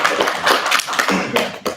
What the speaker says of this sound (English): I expected you to give us a hand of applause,